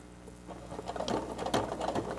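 A sewing machine stitches a face mask with a pocket and nose piece, running in a steady mechanical patter of rapid needle strokes with slight bursts, close and alone without any voices.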